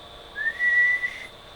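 A single short whistled note into a microphone during a test of a Dentron MLA-2500 amplifier, rising slightly then held briefly, clear and close against faint background hiss.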